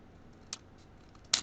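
Two sharp, quiet snips of scissors cutting paper, the second crisper and louder, in an otherwise quiet room.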